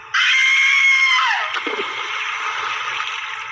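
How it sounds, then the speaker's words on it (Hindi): A woman lets out a terrible, loud, sustained scream as she falls into a well, then the scream breaks off into a rushing, gurgling wash of water-like noise that continues to the end. "मोहन ने रस्सी में भी आग लगा दी और एक भयानक चीख के साथ वो उस कुएं में गिर गई"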